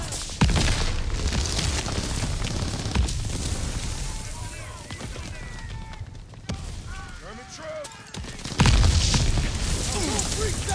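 A Bangalore torpedo blast in the World War II shooter Call of Duty: WWII, with heavy booming explosions and rumbling battle noise, loud and close, mixed with shouting voices and game sound throughout.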